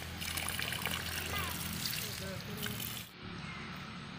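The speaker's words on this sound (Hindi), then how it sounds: "चालू हो गया पानी।" Irrigation water gushing steadily from a just-started supply onto a farm field, a broad continuous splashing rush heard close up with voices nearby.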